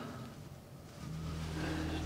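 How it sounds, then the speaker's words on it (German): A motorhome's water pump switches on and runs with a steady low hum, building pressure; the drone swells after about a second and holds at a constant level, fairly close, with no talk. "Pumpe an."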